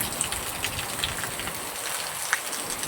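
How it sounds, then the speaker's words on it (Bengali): Heavy rain pouring down outdoors, a dense continuous hiss of rainfall with scattered louder drops striking nearby surfaces, steady and without speech. "তো যাই হোক, প্রচণ্ড বৃষ্টি হচ্ছে আজকে।"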